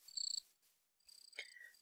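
Crickets chirping in the Minecraft Life in the Woods modpack, short bright trilling bursts repeating with a brief gap, clear and fairly close, with no talk over them.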